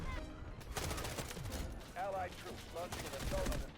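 Rapid bursts from a K-416 rifle in the shooter Delta Force, quick repeated shots in short volleys, fairly close, with someone talking excitedly over the firing.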